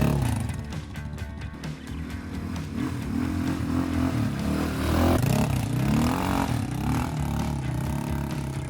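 Motoland Wildtrack ATV quad pushing sideways through thick mud, its engine droning and revving with fluctuating pitch while mud and parts clatter and scrape throughout.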